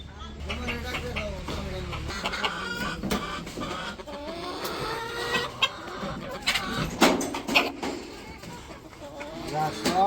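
Chickens cluck and squawk around a village poultry farm yard, with irregular nearby calls and some bursts louder than others, while a person speaks intermittently over them.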